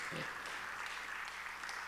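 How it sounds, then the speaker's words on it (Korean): Audience applause at a church gathering as elders walk off the stage, a dense steady wash of clapping with a brief low voice near the start. "박수하겠습니다"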